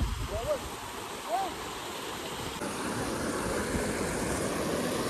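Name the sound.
fast-flowing Narmada river water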